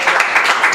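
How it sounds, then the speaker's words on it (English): An audience at a live conversation event claps in a brief burst of dense, steady applause, close and loud, with no talking over it. "I appreciate the clap"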